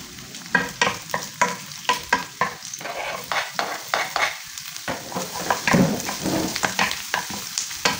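Garlic and onions stir-fried in a pan for pancit make a lively sizzle, broken by rhythmic scraping strokes of a spatula that repeat about once a second, close and fairly loud.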